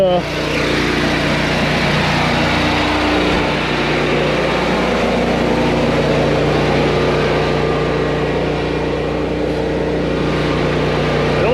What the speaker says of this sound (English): generator, she's running.